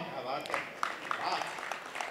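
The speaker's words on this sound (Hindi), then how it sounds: "पहले क्यों ताली बजा रहे हो?" An audience at a Dussehra fair in Kapasan claps throughout a speech, a soft, continuous patter of many hands with a few sharper claps, fairly distant and low in level.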